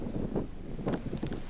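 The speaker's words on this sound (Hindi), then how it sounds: "बहुत तेज हवाएं ऑलरेडी शुरुआत हो चुकी है इस चीज़ की हवा और उसके साथ साथ जो बारिश है वो एक कंटिन्यूसली चल रहा है" Strong cyclone winds batter the microphone during landfall, a steady roaring buffet with rain-laden gusts that swell and ease throughout, loud and close, with no voices.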